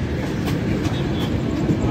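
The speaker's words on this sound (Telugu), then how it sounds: "ఆ తర్వాత మరి ట్రైన్ వెళ్తూనే ఉన్నది" The Samata Express running on the outskirts of Raipur, heard from on board as a steady loud rumble with faint wheel clicks over the rails.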